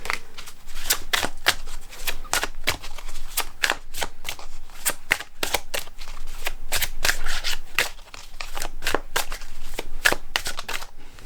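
Oracle cards being shuffled: a rapid, continuous run of crisp card slaps and riffles, close and fairly loud, with irregular rhythm and short pauses, no talking.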